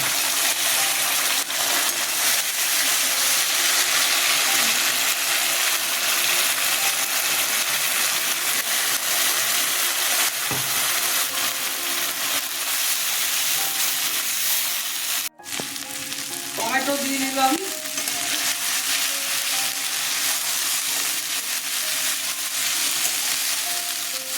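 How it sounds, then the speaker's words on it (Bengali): Onion, ginger and sour yogurt paste fries in a pan for katla fish curry, giving a loud continuous sizzle with a brief clatter of a utensil and a few scraping stirs partway through; no talking. "পেঁয়াজ আদা আর টক দই পেস্ট ছেড়ে দিলাম"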